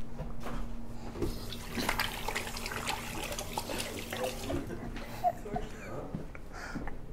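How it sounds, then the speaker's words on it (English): Tap water running into a sink during handwashing, a steady close splashing hiss lasting several seconds, with a low hum and light clatter beneath it. "I had to wash my hands"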